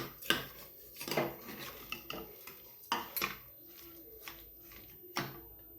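A spoon clinking and scraping against a metal pot while dal is mixed with sugar and jaggery, irregular knocks and scrapes at close range, fairly quiet.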